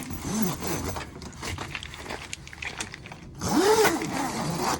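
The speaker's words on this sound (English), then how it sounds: "I can then zip down both sides." A bug net zipper is pulled down along both sides of a 2022 Ram Promaster 136-inch high roof camper van's door opening, two scraping zip runs, the second louder and closer, with no talking.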